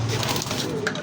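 Roller pigeons give a short, soft, throaty coo, heard up close.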